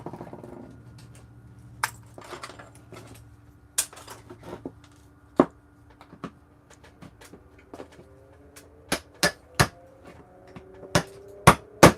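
Sharp metallic strikes of a chisel and hammer knocking IC chips off RAM memory sticks during electronic scrap recovery, a dozen or so separate impacts spaced irregularly, growing more frequent and louder toward the end, with faint clinks between.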